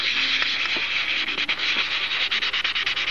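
Sticky-back 320 grit sandpaper rubs along edges in steady back-and-forth strokes, a bright hissing scrape that turns rhythmic toward the end, close and alone.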